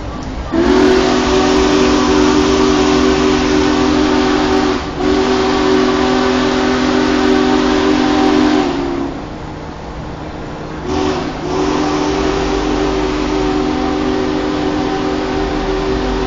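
Union Pacific Big Boy 4014 steam locomotive in Bunkie, Louisiana sounding its deep steam whistle in long loud blasts, one cut short, a pause with hissing steam, then another sustained blast.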